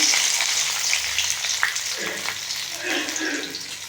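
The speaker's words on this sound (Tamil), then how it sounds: "சிம்மில் வச்சதுக்கப்புறமா நம்ம எடுத்து வச்சு நல்லா வெண்டைக்காயும் போடலாம்" Okra frying in hot oil on low heat makes a loud, close, continuous sizzle and crackle, with stirring scrapes rising and falling throughout.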